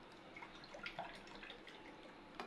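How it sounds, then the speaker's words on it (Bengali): Water poured from a cup into a pot while making rasgulla syrup, a soft faint trickle and splash with small drips, quiet and close with no talking. "জল দিয়ে দিচ্ছি ওই একই কাপেরই মাপ করে।"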